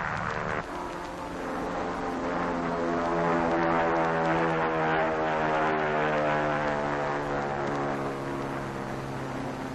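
Steady, loud droning of Navy PBM flying boat propeller engines at the 1946 Operation Crossroads atomic tests, a deep harmonic hum that swells slightly and holds throughout with no talking.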